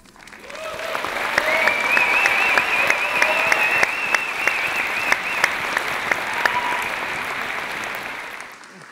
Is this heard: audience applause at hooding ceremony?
yes